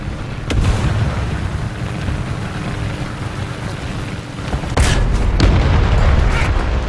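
Artillery strike explosions in War Thunder: a couple of sharp impact cracks followed by loud boom bursts near the end, over a heavy constant rumble of engine and battlefield noise.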